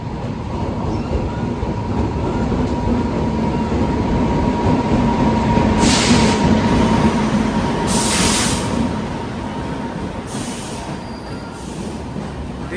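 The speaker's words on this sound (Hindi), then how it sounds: "प्लेटफॉर्म नंबर 2 पर आगमन हो रही है कल्याण शेड के वेब 7 के साथ" A WAP-7 electric locomotive from Kalyan shed hauling the Diva–Sawantwadi express into a station platform, a loud, steady rumble of wheels on rails with squealing flange noise and rhythmic clatter close by.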